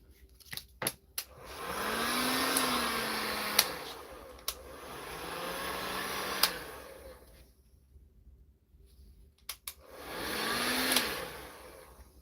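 Heat gun blowing hot air in two long bursts, with a steady airy roar and a rising-falling motor whine, separated by a short quiet gap and sharp clicks as it switches on and off.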